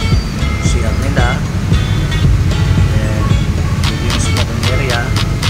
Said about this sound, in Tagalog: Ang time na yan, medyo malakas yung alon.